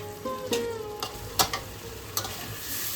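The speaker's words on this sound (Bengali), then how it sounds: "এবার আমি ভেজে রাখা আলুটা দিয়ে দিচ্ছি। আলুটাকে দিয়েও আবার একটু আমরা কষিয়ে নেব।" Fried potato pieces sautéed with ground spice paste in a pan sizzle softly while a utensil scrapes and clinks against the pan in a few distinct strokes, close and unaccompanied by speech.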